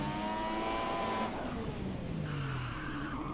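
A car in the F1 2017 video game spins out, its engine revving loudly, then dropping in pitch as the tyres squeal and skid. The sound is continuous and close, with no talking.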